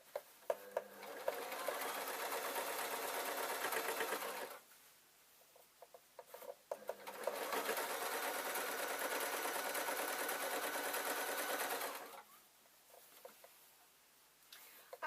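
A sewing machine stitches a suit trouser seam in two long steady runs of rapid needle chatter, with a quieter pause between them and light handling clicks at the start and end.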